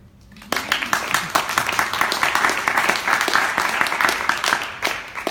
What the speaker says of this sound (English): I know we gave them a round of applause before, but let's just do it again.